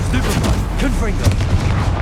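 Confringo fire spell blasting in the video game Hogwarts Legacy, with loud booming bursts landing in quick succession over a dense wash of battle effects and voices.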